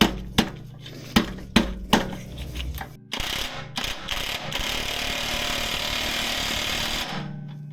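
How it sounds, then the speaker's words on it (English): Several sharp knocks from working a car exhaust bolt lead into a loud, sustained rattling hammer from an impact gun as the bolt breaks loose. The gun runs for about four seconds and then stops abruptly. Close up, with no voices. "I'm using an impact gun, I don't care."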